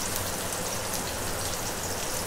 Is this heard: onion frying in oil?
no